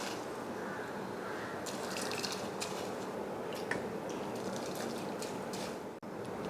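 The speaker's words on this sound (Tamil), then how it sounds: "இதில் அரிசியை சேர்த்துடலாம்." Rice tipped into a pot of boiling water for lunchbox okra rice, a steady bubbling hiss with brief rattling pours of grains, close and fairly loud, no talking.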